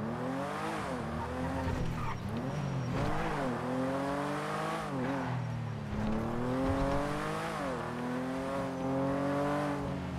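A supercar engine in a video game sweeps past with a rising and falling harmonic whine, loud and steady for about ten seconds, with tire squeal and a faint voice beneath.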